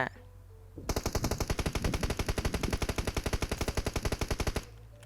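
Rapid automatic gunfire in the mobile battle royale game PUBG Mobile: a single sustained burst of evenly spaced, loud shots lasting about four seconds, close and dominant, ending abruptly with faint background before and after.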